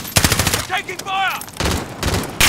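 Bursts of gunfire in the Warzone video game, sharp shots in short clusters at the start and end, with a voice speaking in the middle between the volleys.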